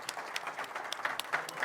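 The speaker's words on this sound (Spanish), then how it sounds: "vamos a darle un fuerte aplauso a Andrés Cajiano de NK Semillas" Applause at an agricultural conference session for a seed-company speaker, a light scattering of claps from a modest audience, fairly quiet and somewhat distant, continuing throughout.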